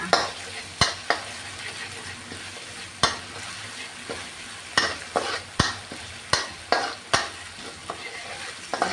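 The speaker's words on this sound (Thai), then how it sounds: "าเจียวจนกระเทียมหอมนะคะเพื่อนๆค่ะ" Garlic frying in a pan while being stirred, a continuous soft sizzle punctuated by sharp spatula knocks and scrapes at irregular intervals, close up and with no speech.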